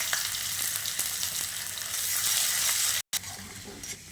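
Chopped ginger and garlic hit hot oil in a wok for a green pea filling, making a loud, close, steady sizzle with faint stirring sounds and a momentary dropout near the end.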